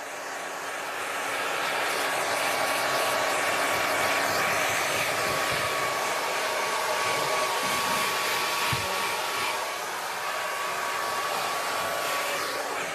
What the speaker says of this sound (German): Um Geld zu sparen, föhnt sie sich ihre Haare selbst.